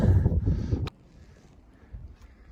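Winter wind on Bear Mountain in New York gusts as low, rumbling buffeting against the microphone, strong at first and then dropping abruptly to a faint hush.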